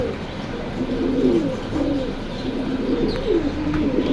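Pigeons coo repeatedly in low, throaty rolls at a busy bird market, close and steady, over a constant background murmur.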